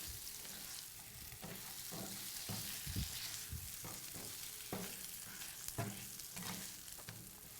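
Trader Joe's soy-based food frying in a home pan, a steady greasy sizzle broken by irregular pops and spatters as pieces are turned, fairly close and without talk.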